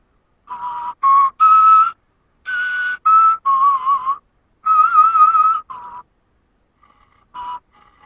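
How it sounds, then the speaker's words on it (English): Breathy, pure bone flute tones play a simple melody in short phrases with pauses, clear and close, ending in a few faint notes. "an example of a clip of music of what a bone flute might sound like"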